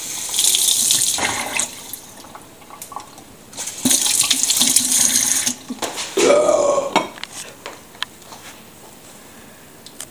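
Water runs from a kitchen tap into a pan in bursts, a close hissing splash that starts, stops and starts again, with a few clinks of cookware and no talk.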